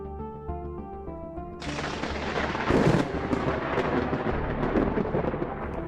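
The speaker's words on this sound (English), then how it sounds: "The winds pick up, the lightning flashes, the thunder growls." Thunder rolling during a storm: after a few seconds of quiet music, a loud broadband rumble swells in and stays, with a sharper crack near the middle and continuous rumbling over the music.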